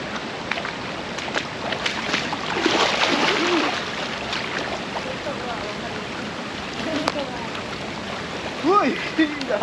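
River water splashes and flows as people wade in to bathe at a campsite river, with intermittent splashes over a steady watery wash and wind, voices talking and calling nearby.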